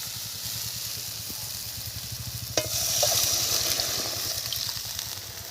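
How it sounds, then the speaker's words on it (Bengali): Water poured into a spice paste frying in a pan, raising a sudden burst of bubbling hiss over a steady low hum, close and with no talking. "এখন আমি জল ঢেলে দেবো"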